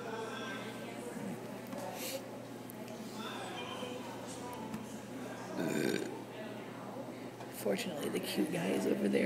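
Belching in a coffee house, several short low gurgling burps standing out against a steady café hum and murmur, the loudest bursts near the middle and at the end.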